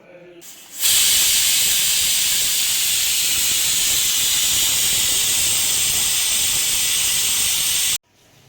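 A pressure cooker vents steam in a loud, steady hiss that starts abruptly, holds for about seven seconds without a break, and cuts off sharply.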